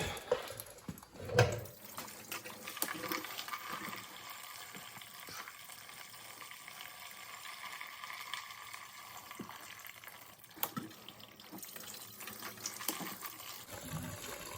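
Liquid runs and trickles steadily while a part from a 1973 Kubota L210 tractor engine with low compression is washed out, a continuous faint wash with a louder splash early on.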